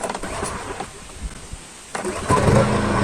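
A 3.5 kW 50 Hz inverter generator is started by hand: a few irregular pull-start thumps, a brief lull, then the engine catches and runs steadily and loudly, nearby.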